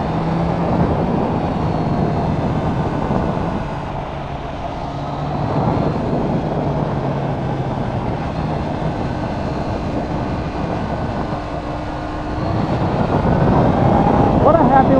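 A 2021 Triumph Trident 660 motorcycle's engine drones while riding, a steady loud hum with rising and falling revs, wind rush mixed in, and a rider's voice speaking over it at times.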